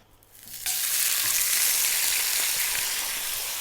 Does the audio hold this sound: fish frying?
yes